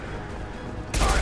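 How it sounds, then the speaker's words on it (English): Gunfire in the Mass Effect 2 video game, a sudden loud burst of rapid shots erupting at the end after a stretch of murky background ambience. "Who the hell is shooting?"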